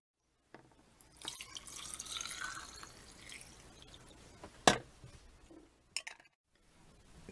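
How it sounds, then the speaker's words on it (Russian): Boiling water is poured over salted pork fat in a container, a brief gurgling splash with clinks of a vessel and a sharp knock, quiet and close, ending in near silence. "Ну, а теперь заливаю водой"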